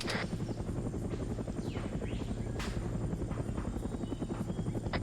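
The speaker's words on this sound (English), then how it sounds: "South is where the helicopter's at." Helicopter flying in a Vietnam War video game, a steady close rotor thump and engine whine running continuously and loud throughout.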